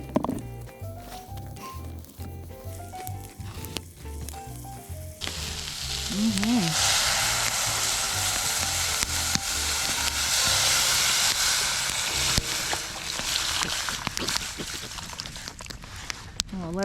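Vegetables fry in a pan in a van kitchen, with a loud sustained sizzle that swells as they are stirred. Clinks and a voice come before it.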